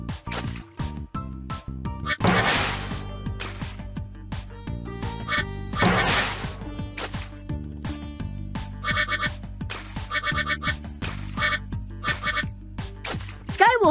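Cartoonish rubber duck quacks in a Bubble Guppies water park video game, repeated short squeaky calls among splashy water effects and bright game music, with a character's voice speaking at times.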